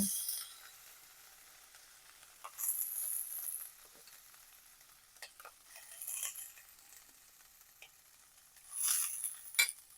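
Rice added to a pan of sizzling tempering with asafoetida and coriander while cooking jeera rice, faint frying hiss broken by a few brief bursts of stirring and scraping against the pan.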